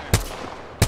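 Two sharp gunshots in a video game, about two-thirds of a second apart, close and punchy against a quiet background.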